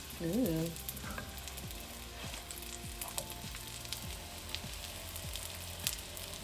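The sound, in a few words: chickpeas frying golden brown in a pan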